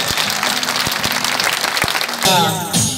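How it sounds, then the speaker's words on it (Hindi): Loud applause from a large rally crowd at an outdoor Bhagwa Yatra gathering in Pithampur, Indore, swelling into a dense burst of clapping near the end, with voices mixed in throughout. "अपने घर की बहन बेटी और महिलाओं के सम्मान में जोरदार ताले हो जाए"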